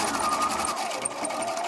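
A Husqvarna Prisma 940 sewing machine stitches at a fast, even pulse, close and steady, with a motor whine running under the rapid needle beats.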